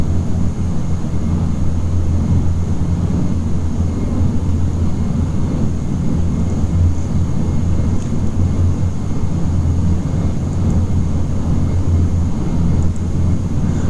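Dash 8 Q400 turboprop engines droning loudly and steadily during a right turn, deep rumble with a constant thin whine above, no talking.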